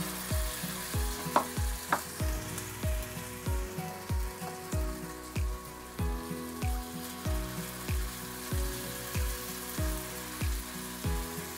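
Cabbage breakfast batter sizzles in hot oil in a pan over low heat, a steady crackling fry with a regular series of soft scraping strokes as the batter is spread, close and moderately loud with no talking.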